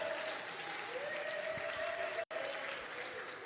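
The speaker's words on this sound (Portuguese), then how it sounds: "Pode aplaudir a Jesus" A church congregation claps for Jesus during a worship service, a sustained, even burst of many hands with a faint held tone beneath it and a momentary dropout partway through.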